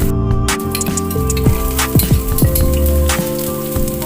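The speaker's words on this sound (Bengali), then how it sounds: "কুচনো কাঁচা লঙ্কা দিয়ে দিলাম, চিনেবাদাম দিয়ে দিলাম, একটু মুগফলি দিয়ে একসঙ্গে ফ্রাই করে নিলাম।" Chopped green chilies and peanuts fry together in a pan, giving a steady, hissing sizzle with a few light clinks over a constant tonal background.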